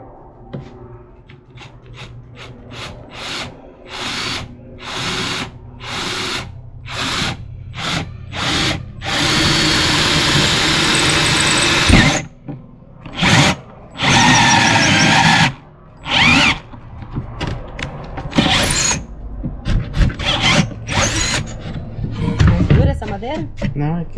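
Power drill boring through wood while finishing a sink for a handmade Kombi motorhome, running in repeated bursts of steady whine with short pauses, loud and close, with people talking between and over the drilling.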